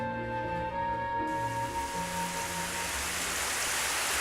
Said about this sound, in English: Sha is the sound of rain.